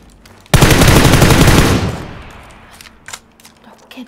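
A loud burst of rapid automatic gunfire from a Groza rifle in a video game, lasting over a second, then a decaying echo and a few faint clicks and shots trailing off.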